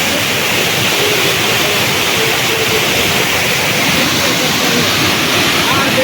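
Rushing water roars loud and constant at Khoiyachora waterfall in Bangladesh, a dense unbroken wash of a falling cascade and fast stream heard close by.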